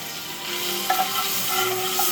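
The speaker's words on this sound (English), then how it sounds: "Over here in this pan, as you can hear sizzling and carrying on, I have" Bacon sizzling in a frying pan, a steady close hiss of frying fat with faint crackles and no talk.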